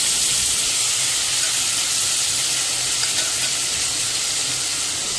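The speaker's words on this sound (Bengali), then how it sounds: "এবার ভালো করে নাড়াচাড়া করে মাংসগুলো একটু বাটারের মধ্যে ভেজে নেব" Chicken pieces fry in butter inside a pressure cooker, giving a dense, even sizzle and hiss that stays loud and constant throughout, with no talking.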